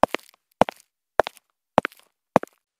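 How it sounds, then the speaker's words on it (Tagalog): Five heavy footsteps on stairs thud at an even, unhurried pace, each a loud knock with a short scuff, clear against silence. "Sinundan ito ng malalakas na yabag mula sa hagdan."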